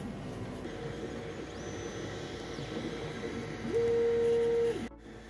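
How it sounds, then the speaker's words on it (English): A 3D printer printing a plastic enclosure whirs steadily, its stepper motors sliding up and down in pitch, with a louder sustained motor tone near the end before it briefly quiets. "we can move on to 3D printing an enclosure"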